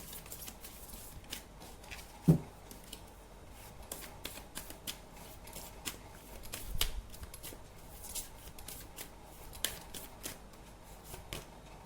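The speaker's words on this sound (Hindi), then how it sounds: "और एक कार्ड निकालते हैं।" Tarot cards are quietly shuffled and drawn, with faint riffling and scattered soft taps and flicks close by, alone and low in level.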